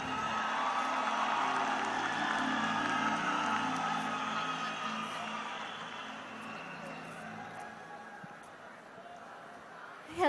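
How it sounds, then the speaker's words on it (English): A pageant audience at Binibining Pilipinas 2014 screams and cheers for a contestant, a dense sustained roar of crowd noise that swells early and slowly eases off, with a host's voice speaking over it. "Everyone's screaming for you."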